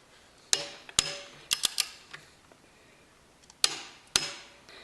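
Sharp metallic clicks of a torque wrench set to 33 tightening a bolt on a Yamaha Zuma 50 scooter, several close ratchet snaps in irregular bursts with short ringing decays.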